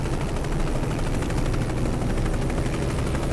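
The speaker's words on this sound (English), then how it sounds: "Is that helicopter right over our head, just watching us try to park here?" Helicopter hovering overhead in American Truck Simulator, a dense continuous rotor roar filling the whole stretch with no talk.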